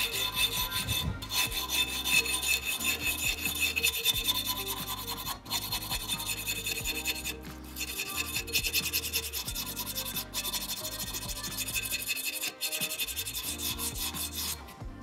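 Emery cloth wrapped over a quarter-inch rod with fuel line, rubbed back and forth to smooth a radius on a metal part, a harsh rhythmic scraping in repeated strokes with brief pauses, close and loud.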